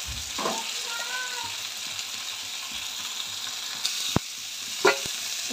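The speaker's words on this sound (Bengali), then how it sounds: "এই যে মাছগুলো ভাজা হয়ে গেছে" Fish pieces fry in oil in a kadai with a continuous, moderately loud sizzle, broken by a few sharp clicks and utensil knocks as pieces are moved, with no voices.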